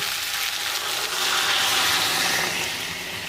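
Water poured into a pan of fried potatoes and moong dal for a fish-head muri ghonto, raising a loud, steady hiss and sizzle that swells and then eases slightly.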